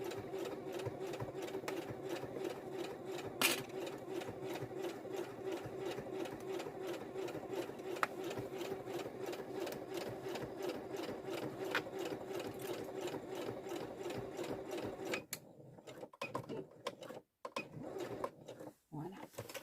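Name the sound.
sewing machine stitching, operated by leg pedal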